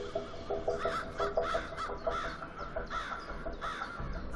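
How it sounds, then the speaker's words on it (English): Many crows gather in one spot on an urban campus in Halifax, cawing repeatedly in overlapping rhythmic calls at moderate distance, with no talking. "with this many crows in one spot, he wouldn't dare attack"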